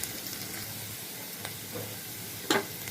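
Sliced onions fry in oil while being stirred, a steady close sizzle with soft scrapes and a sharper knock near the end.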